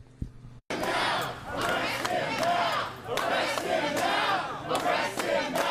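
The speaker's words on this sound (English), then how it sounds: "Community activists unleashing their fury outside Ed Buck's West Hollywood apartment building." Angry protesters shout and chant together outside Ed Buck's West Hollywood apartment building, a loud, dense crowd roaring in surging waves after a brief silent start.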